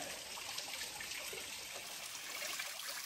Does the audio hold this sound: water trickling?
yes